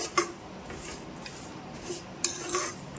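Jaggery melting in a metal pan while a spoon stirs it, with a few sharp clinks of utensil against the pan rim over a quiet background.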